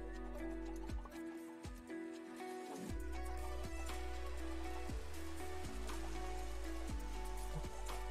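Video game rain falls as a steady wash of drips and patter, mixed with a sustained tonal hum and periodic pitch shifts from background music. No voices are heard.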